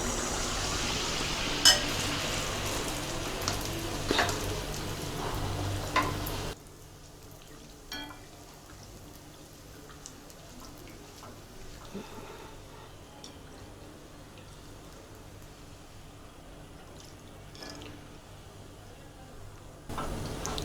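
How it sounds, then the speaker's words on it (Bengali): Semolina pua pitha dropped into hot oil for deep-frying gives a steady, fairly loud sizzling hiss for several seconds, then settles into a quieter, softer bubbling that continues to the end. "তেলটা গরম হয়ে গেছে। এবার আমি একটি পিঠা দিয়ে দিলাম।"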